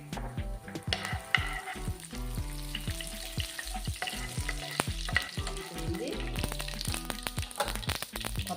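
Mustard seeds, cumin, chana dal and curry leaves sizzle in hot oil as a tempering for Nellore-style ridge gourd pachadi, a steady close crackle with stirring, tonal music running underneath throughout.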